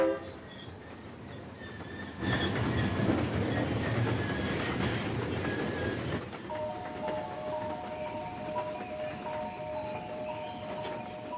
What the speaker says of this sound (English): the noise of the train's horn unsettles them